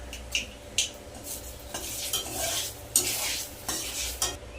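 Nigella seeds and dried red chillies tempering in hot oil in a kadai crackle softly, broken by regular scraping strokes of a spatula against the pan every second or so.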